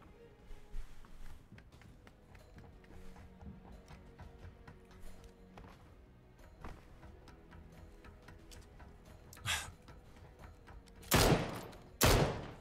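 Gunfire in a competitive online shooter match heard as scattered distant shots and rapid bursts, with two loud close volleys near the end over a low game background.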